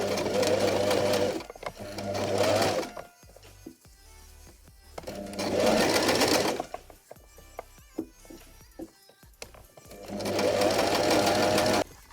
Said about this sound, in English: So I'm going to sew this. I'm just going to slowly start.